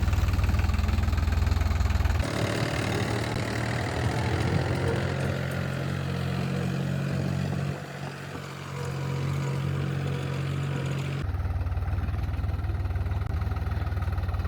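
A heavy tractor engine runs continuously nearby in Manali, a deep steady rumble with knocking vibration that shifts in tone partway through, no talking.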